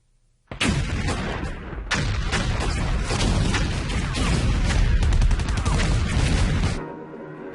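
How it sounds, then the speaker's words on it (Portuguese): Artillery fire in wartime, a dense sustained barrage of overlapping booms and cracks rolling on for several seconds, heavy and continuous before cutting off. "O som distante de artilharia dava esperança aos prisioneiros de que a liberdade se aproximava."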